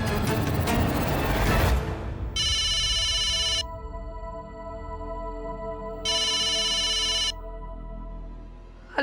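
Mobile phone ringtone in a Hindi TV drama scene: two bright, electronic ringing bursts, each over a second long, separated by a pause, heard clearly after a loud, noisy opening.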